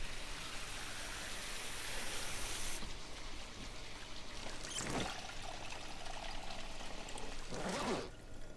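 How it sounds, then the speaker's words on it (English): Water filling containers in the video game Project Zomboid, a steady hissing pour running without a break, with a few brighter splashy bursts along the way and no speech. "I should probably fill these up and then drink some water."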